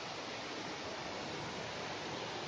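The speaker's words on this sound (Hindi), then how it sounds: "पत्थरों से निकलते झरने कर कर करके आवाज" A tribal-area waterfall flowing over rocks gives a steady, dense rushing roar, continuous and fairly loud throughout, with no voices.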